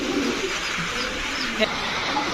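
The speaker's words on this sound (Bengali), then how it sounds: "এগুলো হচ্ছে পাল্লা লাইনের কবুতর" Pigeons of a breed sold at a pigeon farm coo softly and repeatedly against a steady background hum, with low throaty calls overlapping at close range.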